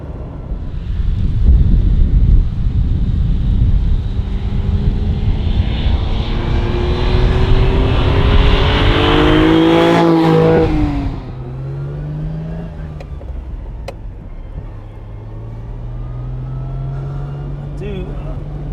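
A Ferrari Dino 246GT on fresh tyres, driven with an open-gated shifter. The loud engine drones steadily under wind roar, climbs in pitch, then drops to a lower note after a gear change.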